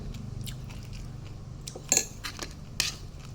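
Someone eats a spicy Isan fermented fish chili dip, jaew pla ra pla kradi, with close, soft crunching bites and a couple of sharp utensil clinks against a plate over a low background hum.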